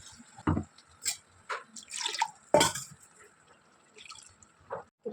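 Water poured into a mixer jar while making chicken kurma, a short splashing pour with drips and clinks in a kitchen, moderately close with a few sharper knocks.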